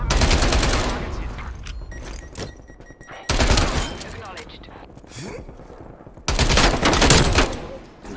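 Bursts of automatic gunfire in the multiplayer shooter Call of Duty Black Ops Cold War, in three loud dense volleys with quieter gaps between them, while players talk over the action.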